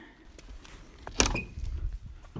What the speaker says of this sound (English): Door's a little creaky.